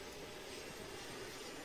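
Helicopter in a zombie video game, a steady low engine and rotor roar, faint and continuous with no talk over it.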